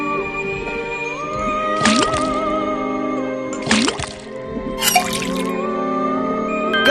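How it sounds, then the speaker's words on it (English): A faucet drips water in the point-and-click adventure game Detective Grimoire, giving three bright, splashy drip bursts spaced a couple of seconds apart over a steady, resonant tonal background. "then tap the faucet"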